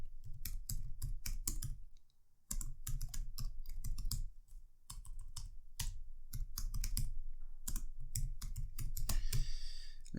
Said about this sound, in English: So let's type that in.